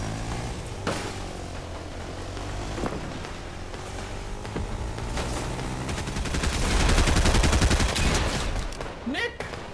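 Video-game gunfire rattles in repeated bursts, some distant and some nearer, building to a louder flurry near the end, with a vehicle engine and brief talk mixed in.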